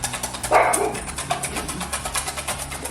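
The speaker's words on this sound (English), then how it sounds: "Dog alarm's going off again." A single dog barks once, close and sharp, followed by softer rhythmic whining or panting.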